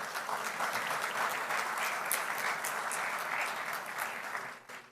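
An audience at a formal report launch in Trinidad and Tobago gives sustained applause, a dense, even wash of many hands clapping that holds steady for several seconds and then fades out.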